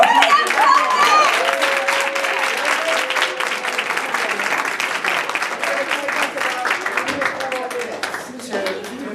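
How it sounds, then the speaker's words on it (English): Audience applause for a poet at a poetry recitation competition, sustained crowd clapping with a few whoops and cheers throughout, fairly loud and close. "one more round of applause for the poet"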